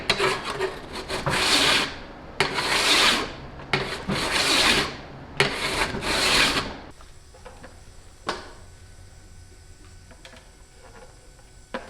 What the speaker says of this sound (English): I straighten them up with this file